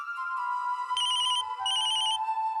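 An electronic phone ringtone plays loud and alone, a bright repeating melody in two bursts with a short pause between them, in a Hindi TV drama scene.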